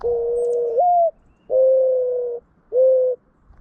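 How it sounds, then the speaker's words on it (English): Mourning dove cooing in three clear, hollow notes separated by short pauses, close and alone against a quiet background. "This is the song of a mourning dove."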